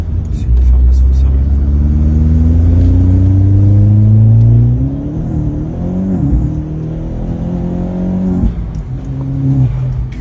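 A car engine revs and accelerates while driving, a loud low drone that rises in pitch, eases off, then climbs again, under steady talk from the occupants.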